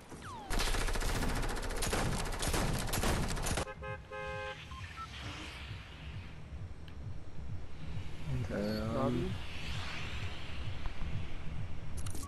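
Double barrel shotgun fire in Fortnite, a few sharp gunshots amid dense game noise, with a loud burst of clatter early on followed by quieter scattered effects and tonal chirps.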